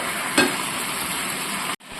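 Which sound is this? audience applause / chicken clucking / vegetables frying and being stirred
vegetables frying and being stirred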